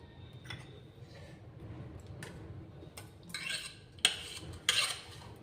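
A knife cuts through aloo bread pakoda on a plate with a few sharp clicks and scrapes, the loudest coming in two quick strikes near the end. Soft kitchen clatter sits underneath.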